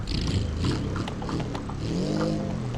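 The engine of a small Cooper-style car in the driving game BeamNG Drive hums and revs, a close, steady motor tone that rises briefly.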